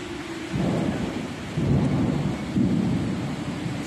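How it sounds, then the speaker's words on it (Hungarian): Distant thunder rolls during steady rain, with several low rumbles rising and fading over the constant hiss of rainfall, no voices. "Á, nem, ez már messze volt ez a dörgés."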